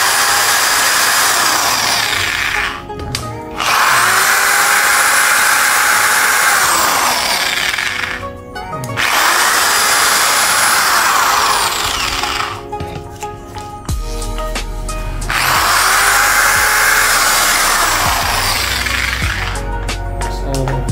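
A car buffing machine runs in long, loud whirring spells with rising and falling pitch, briefly cut off three times between runs, close to the listener with no talk over it.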